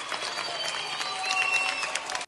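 Students give a retiring teacher on his last day a burst of continuous applause and cheering, a dense crowd of clapping without pause.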